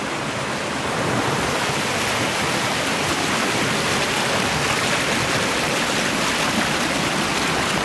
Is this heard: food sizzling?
no